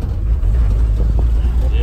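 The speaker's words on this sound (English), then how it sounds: "old vehicle with a manual trans" An old truck with a manual transmission drives along with a steady, close, loud low engine drone and road rumble that stays constant throughout.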